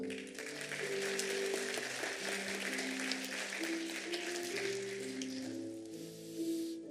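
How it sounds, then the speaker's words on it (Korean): A church congregation at an Easter Sunday baptism service applauds, a sustained, fairly distant wash of clapping over soft sustained organ-like musical tones that linger as the clapping fades. "다시 한번 큰 박수로 감사드리겠습니다"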